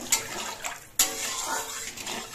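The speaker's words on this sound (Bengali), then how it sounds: "এবার এর মধ্যে আমি জল দিয়ে দিচ্ছি।" Water is poured into a spiced hilsa-style fish curry in a cooking pot. It gives short, close splashes with two sharp onsets, then a gurgling stream, with no speech.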